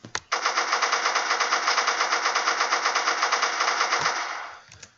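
Rapid automatic gunfire in a video game, a long unbroken burst of evenly spaced shots lasting about four seconds, loud and close, ending in a short tail with a single separate shot at the start.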